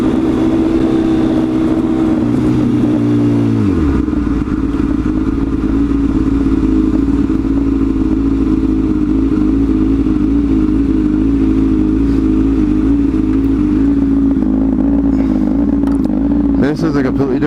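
A motorcycle engine, not a Harley-Davidson, runs loud and close; its revs drop after a few seconds and settle into a steady, throbbing drone that continues throughout.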